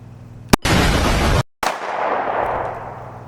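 Close, loud Glock pistol shots aimed at a target 15 yards away: a short crack, then a long harsh blast that breaks off sharply, then one more shot that trails into echo.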